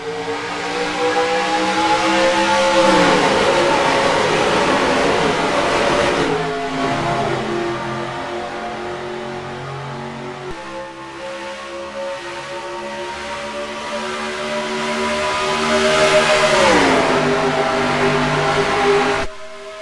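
Racing trucks' engines in NASCAR Racing 2003, a pack of 42 trucks on the green flag at Texas World, with loud, steady mid-pitched revving and rising then falling pitch as trucks surge past.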